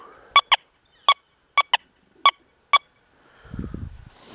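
Deus 2 metal detector giving repeated short beeping signal tones over buried nails, seven clear chirps spaced irregularly, followed by a rough scraping rustle near the end.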